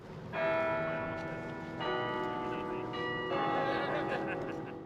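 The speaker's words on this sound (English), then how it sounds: "The carillon will still chime each day" Carillon bells chime from a large tower, three successive rich, ringing strikes roughly a second and a half apart, each note sustaining and overlapping the last, with faint background noise.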